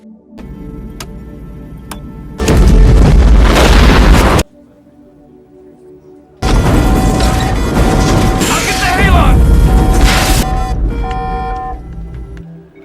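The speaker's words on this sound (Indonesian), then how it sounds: "Ledakan itu bahkan membuat pesawat mengalami gangguan serius" Two loud, heavy bursts of explosive noise, each sustained for a few seconds, separated by a quieter gap with faint ticking.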